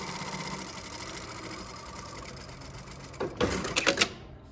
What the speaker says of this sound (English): you're gonna start sewing here, putting here, and then straight stitch